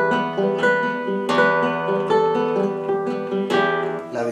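Classical guitar arpeggio played with the ring finger resting on the second string, for the Romance anónimo piece; clear, ringing plucked notes in a steady flowing pattern, close and alone with no talking.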